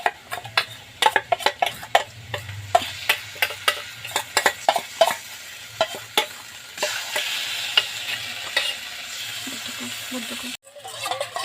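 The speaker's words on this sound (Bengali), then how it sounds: "এখন দিয়ে দেব ব্লেন্ড করে নেওয়া পালংগুলো।" Blended spinach tipped into a pan of frying spice paste, giving a steady sizzle with repeated scraping stirs of a spoon against the pan, close and fairly loud, ending in a short pause.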